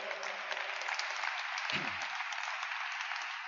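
An audience at a Spanish-language religious talk about Jesus claps steadily, a dense, even wash of applause that holds throughout at moderate level, with a faint low thump or murmur partway through.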